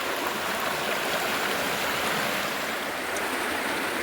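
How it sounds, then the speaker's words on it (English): Water rushes steadily through a gold-prospecting sluice box as gravel is pushed along it, a loud, continuous hiss and wash with no pauses or voices. "All right, I pushed it through the sluice."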